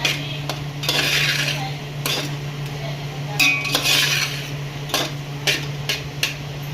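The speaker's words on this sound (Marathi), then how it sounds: "असं व्यवस्थित परतून घेते मी चांगला फ्राय करून घ्यायचा" Rice being stir-fried in a pan for Indian-style phodnicha bhaat, with repeated metallic scrapes and clinks of a spoon against the pan over a steady hum. The knocks come in irregular bursts, close and fairly loud.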